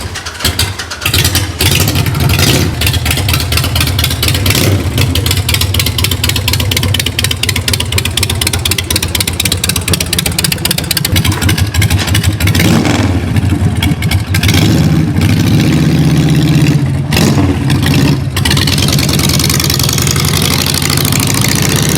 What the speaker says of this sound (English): I'll take the bike for a ride.